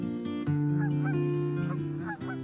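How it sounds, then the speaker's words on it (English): Dusky Canada geese at Alaganik near Cordova, Alaska, honking loudly and close in a quick overlapping series of nasal calls, with no talking. "it's a great place to spot migratory waterfowl in the spring and fall, including the dusky Canada geese"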